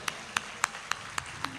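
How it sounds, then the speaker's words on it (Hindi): Slow, evenly spaced hand claps, about six sharp claps in a steady rhythm, moderately faint, from the audience at an Urdu poetry recitation (shayari gathering). "दोस्तों, तालियां बजाएं"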